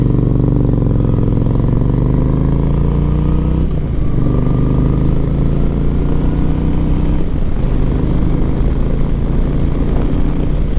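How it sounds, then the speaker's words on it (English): Loud, close motorcycle engine drone while riding, pitch climbing through gears with two brief dips as it shifts, continuous with wind noise. "I fucking love riding motorcycles."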